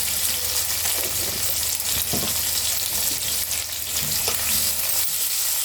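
Eggplant pieces fry in hot oil with a steady, full crackling sizzle, broken by a few scraping stirs and thumps in the pan.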